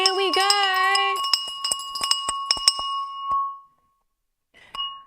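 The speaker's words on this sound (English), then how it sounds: "that bell that will soon be sponsored, hopefully by the London Stock Exchange" A market-open bell rings on a live stock trading broadcast: a quick run of bright metallic dings and clinks, then a ringing tone that decays to silence before one last faint ding.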